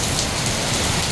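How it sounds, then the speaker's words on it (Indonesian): Heavy rain pours down in a storm in Mecca, a dense, steady roar of water hitting surfaces, loud and unbroken throughout. "Ini hujan deras ini."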